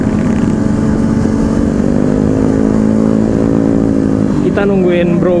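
Group of big motorcycles, including choppers and custom bikes, rumble and rev together at close range with a deep continuous engine drone and a rising note toward the end, while someone talks over them.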